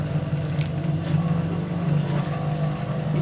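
A sewing machine stitches a shalwar along buckram, running in a continuous fast mechanical whir with a steady low hum and faint ticking, close and unbroken throughout.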